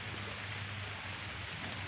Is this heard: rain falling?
yes